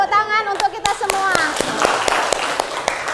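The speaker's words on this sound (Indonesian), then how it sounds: "kasih tepuk tangan untuk kita semua." A classroom of high school students claps their hands together, a series of sharp, fairly regular claps over about three seconds, preceded by a voice speaking.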